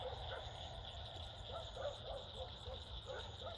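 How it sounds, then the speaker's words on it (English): Dogs barking in the distance on a summer evening, a few faint scattered barks and yips over a constant drone of katydids and cicadas. "besides the dogs barking."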